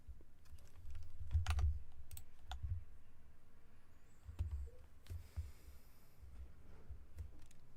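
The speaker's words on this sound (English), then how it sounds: "What am I typing?" Fingers type on a computer keyboard during an esports livestream, with brisk clusters of close, crisp key clicks separated by brief pauses and the occasional louder tap, and no talk over them.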